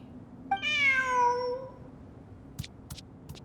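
A cat in the video game Genshin Impact gives one clear, drawn-out meow, close and isolated over quiet ambience, followed by a few faint light clicks.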